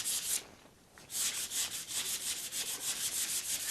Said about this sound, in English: I'm going to finish sanding these pieces down